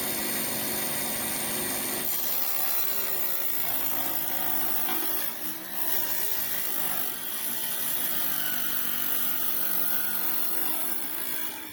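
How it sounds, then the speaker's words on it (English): A power saw with a 6-inch blade cuts through material and labors as it binds, giving a continuous loud grinding roar that shifts in pitch and strains, close and without talk. "So it's wanting to cut about 6 inches and then it's binding and stopping."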